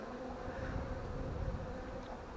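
Honeybees from a small swarm at a hive make a close, steady, dense buzz that holds at an even level throughout.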